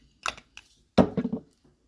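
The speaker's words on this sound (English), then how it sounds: "I'm going to put some setting spray on it instead of a powder." A couple of short hissing bursts from a makeup setting spray misted over freshly applied concealer, close and brief with quiet gaps between.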